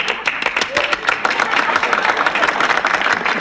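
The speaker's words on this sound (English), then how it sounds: "Let's applaud." Dense, continuous applause from a group, quick overlapping claps held at an even loudness throughout.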